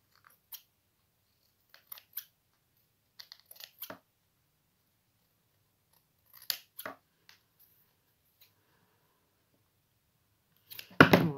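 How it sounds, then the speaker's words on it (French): Scissors snip paper in short, sharp clicks, a few scattered cuts separated by quiet pauses, ending in a longer crisp cutting burst close by. "je vais me servir des ciseaux pour enlever le petit demi millimètre"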